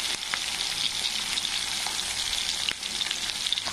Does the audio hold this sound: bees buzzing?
no